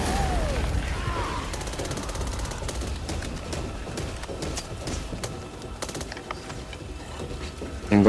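Rapid gunfire in the zombie shooter Back 4 Blood, dense bursts of shots rattling steadily and loudly with mechanical clicks, as a player aims at an explosive barrel; a sharp jump in loudness at the very end.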